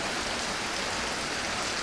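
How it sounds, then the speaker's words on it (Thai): Rain falling over a rice field, a dense, even hiss of drops that stays steady throughout with no talking. "ก็เพิ่งจะมีน้ำฝนจะตกลงมานะครับเนี่ย"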